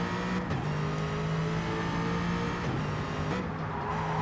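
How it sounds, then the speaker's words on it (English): Aston Martin V8 Vantage race car running a hot lap at Autopolis, heard onboard: a loud, steady engine drone held throughout with brief dips in pitch at gear changes, no voices. "On board now with the Doghouse Motorsports Aston Martin V8 Vantage."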